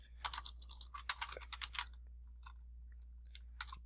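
Rapid clicking of keys on a computer keyboard, a dense burst of typing that thins out to scattered taps over a low steady hum.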